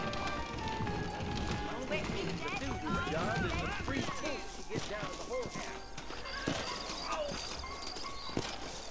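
In Red Dead Redemption, horse hooves clip-clop at a quick trot while a horse whinnies, with voices talking over the hoofbeats.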